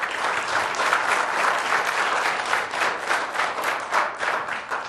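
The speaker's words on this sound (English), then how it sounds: "thank you for the applause" Sustained audience applause at a technology conference presentation, a steady dense wash of many hands clapping at even volume for several seconds with no talk.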